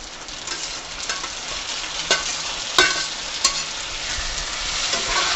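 Sliced onion frying in hot oil in a pan with spices, a close, steady sizzle broken by a few sharp clinks and scrapes of a stirring spoon.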